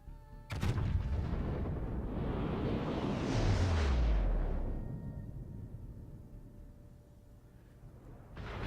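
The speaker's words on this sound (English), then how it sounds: "I'd be firing here just with that rear turret first" A warship's rear turret fires in a naval video game, one sharp heavy boom followed by a long rolling roar that swells and fades over several seconds, then another blast at the end, with no talk.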